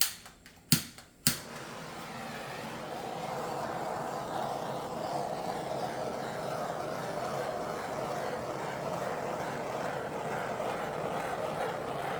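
A torch flame is swept over epoxy on a charcuterie board: after three sharp clicks at the start, a steady close roaring hiss runs on evenly without speech.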